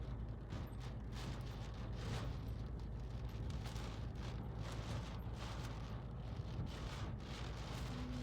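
Continuous roaring wind from Storm Wipha buffets the microphone while rain hisses steadily, with gusts swelling and easing throughout.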